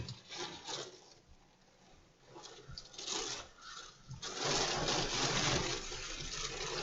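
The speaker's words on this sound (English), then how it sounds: "you can actually hear the eyewall approaching us at our location now." Low roar of Hurricane Delta's eyewall approaching in coastal Louisiana, a broad rushing wind noise that swells and fades, then builds steadily louder and more constant in the second half.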